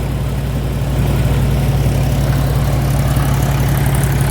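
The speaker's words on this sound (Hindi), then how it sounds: "ये ट्रैक्टर देख सकते हैं हम, 265 DI है महिंद्रा का।" Mahindra 265 DI tractor engine running steadily at a farm groundnut threshing site, a loud, close, low diesel throb with even rhythmic pulsing and no talk.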